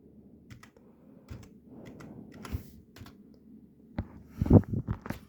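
Keys on a computer keyboard are tapped in irregular clicks and short bursts while a password is typed, the tapping growing louder and faster near the end, with no talking.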